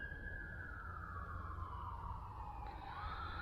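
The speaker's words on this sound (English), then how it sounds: "now you can hear that police car or ambulance or whatever it is" A distant police or ambulance siren heard from a campsite on the Withlacoochee River wails, its tone sliding slowly downward over steady traffic rumble, fairly faint and continuous.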